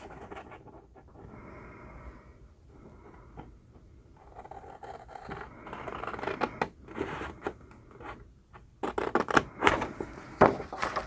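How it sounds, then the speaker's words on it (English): Scissors cut along scored craft paper to remove the corners, quiet at first, then a run of crisp, close snips and rustles growing louder toward the end. "So you'll just cut on your score lines."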